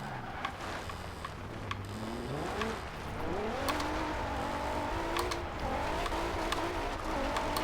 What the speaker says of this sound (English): just a little bit of a wheel spin in 4th gear